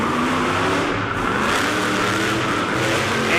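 A monster truck engine revs hard on tacky dirt as the truck goes for a donut, a loud sustained roar that surges near the end.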